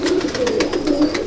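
Abluk Madrasi pigeons coo close by in a soft, repeated, throaty murmur that continues without pause through the short stretch.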